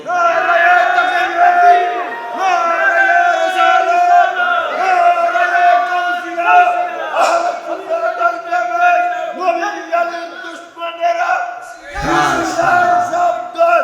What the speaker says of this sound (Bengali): জবান খুলে জোরে একটা তাকবীর হবে